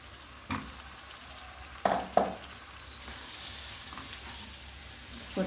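Marinated vegetables sizzle steadily as they fry in a pot for veg biryani, with a few sharp clinks and scrapes of a spatula stirring against the metal, close and continuous.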